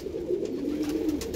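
Andhra pigeons with raw-yellow eyes cooing close by, a steady throaty burbling coo that runs continuously with faint scratchy bird movement over it, no talking.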